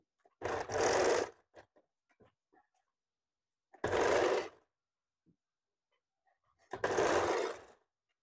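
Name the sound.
sewing machine stitching a blouse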